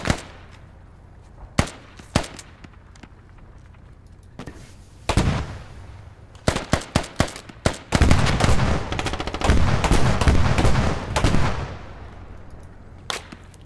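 Gunfire in the tactical shooter Squad: scattered sharp single shots early on, then dense bursts of automatic fire, loud and close, with echoing cracks throughout.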